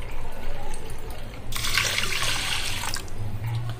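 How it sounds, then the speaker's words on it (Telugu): Water pours steadily for about a second and a half into a pressure cooker holding washed rice and toor dal, a close splashing rush against a quiet kitchen background. "బియ్యం తీసుకున్న కప్పుతో 5 కప్పులు నీళ్లు పోసి కుక్కర్లో పెట్టాలి."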